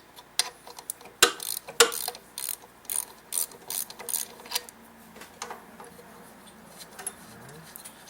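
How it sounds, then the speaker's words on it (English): A ratchet with a 9/16 wrench holding the shaft breaks loose the friction disc bolts on an Ariens snow blower, making quick close clicking ratchet strokes in uneven bursts, fading to lighter clicks toward the end. "I'm using that 9/16 wrench to hold the shaft as I break the friction disc bolts loose"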